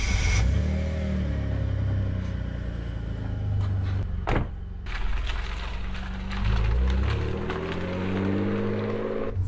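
A Mitsubishi 3000GT revs and accelerates from inside the cabin, its engine rising and falling in pitch across several gear pulls, loud and continuous with a brief lift-off midway.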